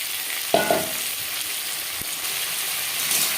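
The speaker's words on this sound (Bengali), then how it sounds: "3-4 মিনিট পটল ভেজে নেওয়ার পর দিয়ে দেবো ডাঁটা।" Pointed gourd and vegetable stems frying in a pan, giving a steady broadband sizzle with a light stirring clatter near the half-second mark and a brief tap later.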